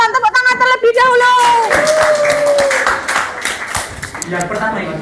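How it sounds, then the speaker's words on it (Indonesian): Classroom audience applauds a student group before its presentation, with hand clapping building after a speaker's sustained call and continuing under a voice for most of the clip. "Tepuk tangan terlebih dahulu."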